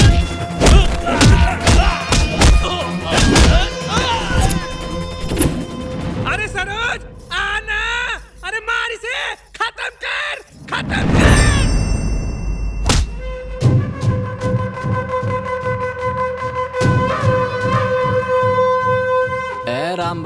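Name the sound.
fight scene blows being struck, film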